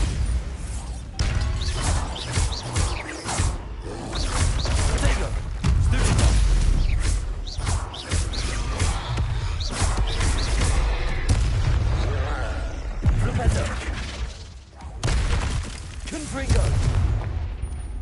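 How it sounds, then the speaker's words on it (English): Booming Bombarda spell explosions from Hogwarts Legacy gameplay during a troll fight, loud and dense blasts packed one after another across the whole stretch with crashing impacts and near-constant low rumble. "Bombarda!"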